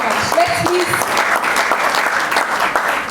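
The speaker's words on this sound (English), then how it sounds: "applaud for her as she takes the stage" An audience at a talk event claps steadily as a speaker takes the stage, the applause close and busy, with a few whoops and voices mixed in.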